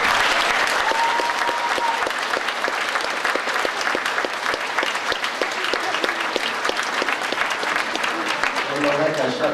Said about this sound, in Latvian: Aplausus vecākiem.